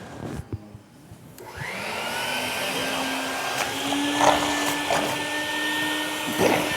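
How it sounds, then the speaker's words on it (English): After a few knocks and a brief lull, a vacuum cleaner starts up and runs with a loud, steady whine and roar as it sucks liquid clay slip out of a container in a ceramics workshop. "Can I vacuum this out?"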